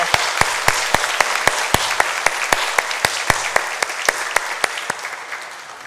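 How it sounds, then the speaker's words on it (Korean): A church congregation applauds together at a Sunday worship service, a steady run of sharp, evenly spaced claps ringing out over a broad wash of clapping across the room, with no talking. "우리 함께 영광의 박수 올려드리겠습니다"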